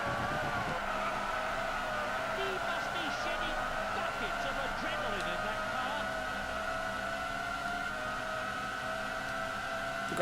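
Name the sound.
Formula 1 car engines racing, from PS1 video game Formula 1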